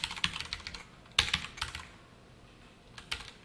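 Quiet bursts of keystrokes clatter on a computer keyboard as code is typed, in uneven clusters of clicks separated by short pauses.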